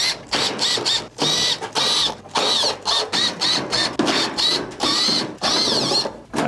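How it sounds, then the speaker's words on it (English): Phillips screws being backed out of the top panel of a Whirlpool electric stove, giving repeated close mechanical ratcheting and clicking bursts separated by short pauses, with no talk. "remove the top panel by taking out all of the Phillips screws around the perimeter"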